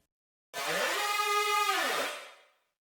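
A single distorted saw-wave synth note in a music mix, low end removed and a touch of reverb added, sounding bright and buzzy for about two seconds with a falling pitch before fading into a short spacious tail.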